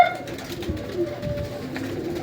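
Anmol breed pigeons cooing softly amid a low background murmur, a few faint throaty coos scattered over a couple of seconds.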